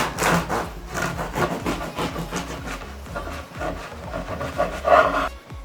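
A knife saws back and forth through a loaf of bread being cut into thin slices for toasting, a steady rasping rhythm of repeated strokes, close and moderately loud, with no voices.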